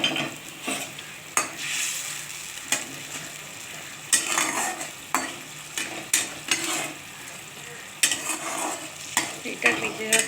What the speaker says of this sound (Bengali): এখন আমার গ্রেভিটা ফুটে গেছে।